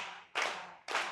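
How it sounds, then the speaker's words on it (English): Two sharp hand claps, evenly spaced about half a second apart, loud and close in a music theory workshop, with no talking. "So I'm going to clap it first."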